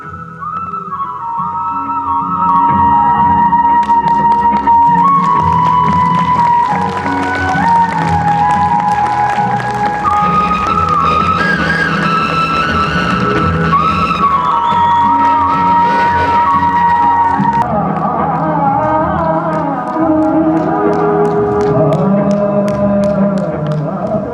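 Audience applause and cheering for the performers after a stage play of Komal Gandhar, a steady loud crowd sound mixed with whistles and music throughout.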